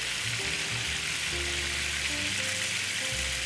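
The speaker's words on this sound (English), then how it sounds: "I'm going to go ahead and put my lemon juice in here." Fresh lemon juice, strained through a mesh strainer, sizzles in a hot pan while cooking shrimp and grits, a loud steady hiss of frying that fills the whole moment with no talk.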